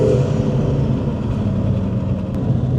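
Lotus Emira i4 with its 2-litre four-cylinder running steadily at close range: a continuous, loud engine drone with a firm low rumble and no break through the whole stretch.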